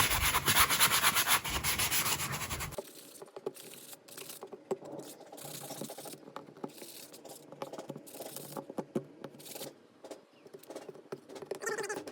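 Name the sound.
sanding rough spots around screw heads on eave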